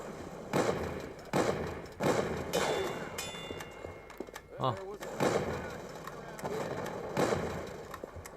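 Rapid machine gun fire in the video game Team Fortress 2, coming in repeated loud bursts with short pauses between them, mixed with game effects and a voice talking.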